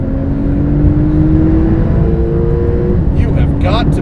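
A 2018 Porsche 991.2 Turbo S launches under launch control, its engine droning loud and steady with a rising whine throughout, and people talking over it.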